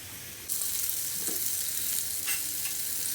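Paneer pieces cooking in a pan on a low gas flame start sizzling abruptly and keep up a bright, steady frying hiss close by, with small crackles along the way and no talk.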